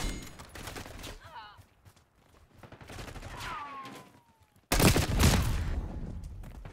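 Gunfire in the video game Black Ops 6 comes in scattered shots, then a sudden loud, close burst of rapid firing with other game sound effects.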